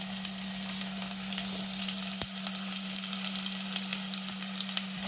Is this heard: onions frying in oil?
yes